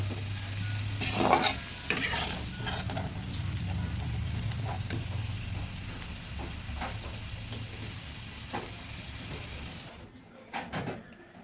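Potato pieces frying in hot oil in a karai for a prawn and potato curry give a steady, close sizzle with stirring scrapes throughout, cutting off and quieting near the end.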